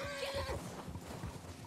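A horse in a Wild West video game lets out a high, wavering whinny up front, then hooves clop and thud quietly under faint game background noise.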